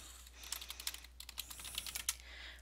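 Typing on a computer keyboard, a quick irregular run of soft key clicks over a few seconds, faint and close, with a low steady hum beneath.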